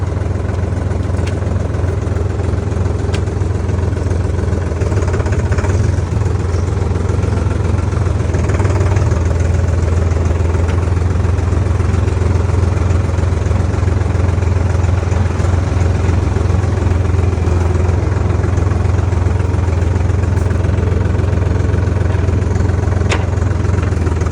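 A Solis 50 tractor engine runs steadily at idle for the whole stretch, a loud, close, low diesel rumble with no talk over it.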